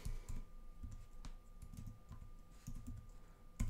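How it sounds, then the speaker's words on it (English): Quiet, steady typing on a computer keyboard, a continuous patter of soft close clicks with a slightly louder keystroke at the end, no talking. "I'm going to type in the hashtag or pound sign"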